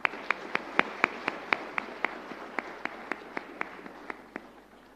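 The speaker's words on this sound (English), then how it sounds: "Let's applaud the speaker once more." A conference audience applauds a speaker at an engineering research event, heard as a faint, steady series of evenly spaced individual claps that sound sparse rather than a dense ovation.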